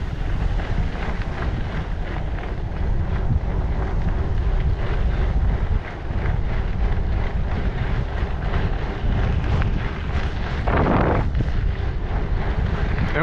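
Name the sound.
wind blowing while cycling on a rail trail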